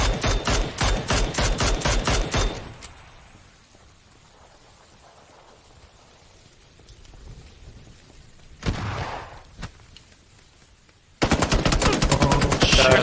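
Bursts of rapid automatic gunfire in the battle royale game PUBG, loud and close at first, then a quieter stretch with a few distant shots, then another loud burst at the end.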